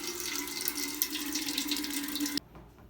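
A cooking pot under a kitchen sink tap fills with a steady, bright rush of running water that holds constant, then cuts off abruptly as the tap shuts near the end.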